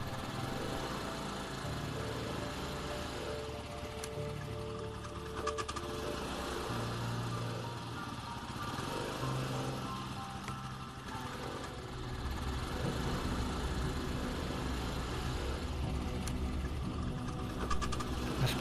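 A small motor engine hums steadily throughout, a continuous buzzing drone with slight fluctuations, fairly close and without talk.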